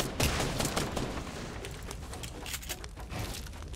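Rapid gunfire fills a first-person shooter video game firefight, with dense, crackling bursts of shots running continuously and fairly loud, with no talking over them.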